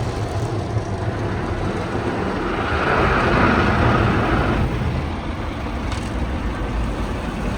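Automatic car wash brushes move over a vehicle in a constant loud rumbling wash, swelling slightly in the middle as they pass close.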